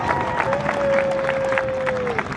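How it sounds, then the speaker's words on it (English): Applause from a crowd at an outdoor K9 show, a scattered round of clapping with a whistle-like tone over it, moderately close and continuous. "Give a round of applause."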